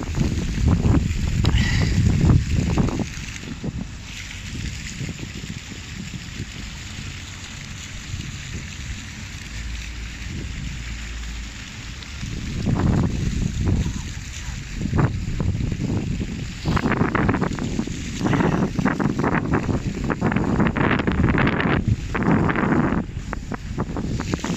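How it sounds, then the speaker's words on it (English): Outdoor fountains in Birmingham, UK, send jets of water up and down with a steady rushing splash that swells and eases, broken by wind buffeting on the microphone. "with all these fountains going up and down"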